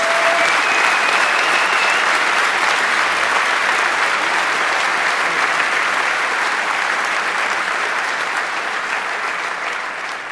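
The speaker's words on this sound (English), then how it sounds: "Give yourselves a round of applause and give a round of applause for these guys." Dense, sustained applause from a large conference keynote audience, loud and even throughout with a broad wash of many hands clapping, easing slightly toward the end.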